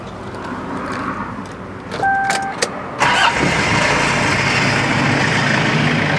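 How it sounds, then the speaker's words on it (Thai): A 2000 Toyota Sport Rider with a manual gearbox cranks briefly and catches on the first try, then settles into a steady, close-up idle rumble with no talk over it. "เดี๋ยวฟังเสียงเครื่องสักนิดหนึ่งนะฮะทุกคนครับฟังเสียงเครื่องนิดหนึ่งนะฮะ"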